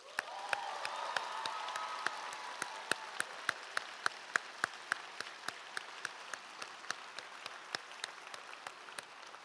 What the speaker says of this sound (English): Congratulations to you all, and a round of applause for everyone.